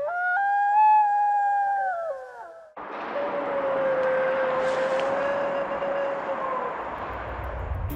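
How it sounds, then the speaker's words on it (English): A wolf howl recorded in Alaska: a clear, wavering howl lasts a couple of seconds. A long, fainter sustained tone follows it, buried in heavy rushing background noise. "It could possibly be a wolf howl."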